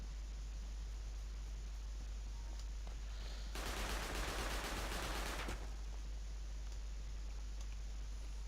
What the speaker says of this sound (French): C'était une tourelle ça non?